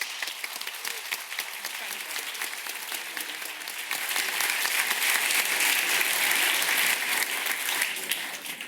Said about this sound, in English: Give them a whole big round of applause.